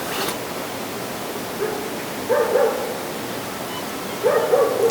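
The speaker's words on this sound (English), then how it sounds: "I can hear some dogs barking and some water flowing somewhere in the distance" Dogs bark in short bursts far off in a calm, quiet valley in Spiti, faint against a soft steady hiss of flowing water.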